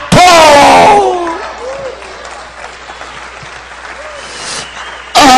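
Church congregation applauding during a sermon: a loud burst of shouting and clapping at the start settles into softer sustained applause under a speaking voice, with another loud vocal burst at the end.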